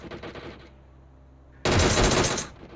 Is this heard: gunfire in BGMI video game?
yes